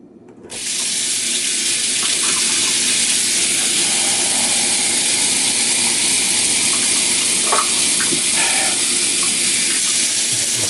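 Tap water gushes steadily into a measuring cup for lemonade, a loud continuous hissing rush starting abruptly and holding an even level, with slight splashing changes near the end.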